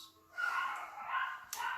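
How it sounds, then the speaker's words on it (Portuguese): Small dogs barking and yipping agitatedly together in a home, a continuous string of excited yaps at moderate distance, with no one speaking over them. "os cachorrinhos hoje estão uma fera, hein?"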